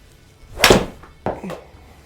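Golf ball struck with a 7 iron, one sharp loud impact followed by a softer second knock shortly after, outdoors with little else.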